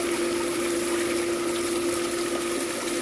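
An Intex pool mushroom fountain pumps water in a steady, continuous rush with a constant tonal hum from the pump, loud and unbroken throughout.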